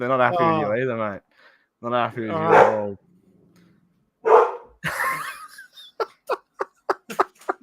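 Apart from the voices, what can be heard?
dog barking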